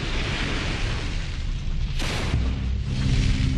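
A deep, rumbling boom of a dynamite blast in rock at the Hoover Dam bursts out partway through, swelling into a sustained roar of blasting over continuous low noise.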